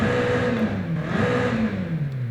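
A 2020 BMW M8 Competition Coupe engine revs loudly and close, its pitch rising and falling through a couple of throttle blips with a steady, throaty drone, and no talk over it.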